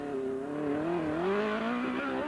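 A grasstrack sidecar racing motorcycle heard from the driver's seat: a loud, continuous engine drone that rises and falls in pitch as the throttle opens and eases, close and unbroken for the whole stretch.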